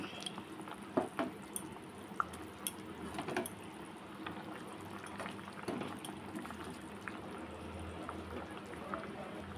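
Rohu fish curry gravy with potato and taro bubbles quietly in a pot, with a soft continuous simmer, scattered drips and light clicks, and faint voices in the background.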